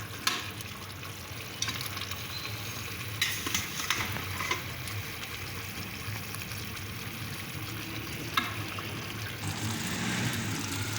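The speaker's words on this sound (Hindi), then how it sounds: "अब यखनी डाल रही हूँ इसमें।" Yakhni broth is poured little by little into a large cooking pot, giving a steady hiss and bubbling with occasional splashy bursts and clinks. The sound stays fairly quiet throughout and no one speaks.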